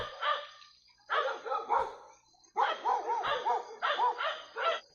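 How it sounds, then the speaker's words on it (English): A dog barks in several bursts of loud, close yaps and yips with short pauses between them, the barking strong and clear. "Dog's mad."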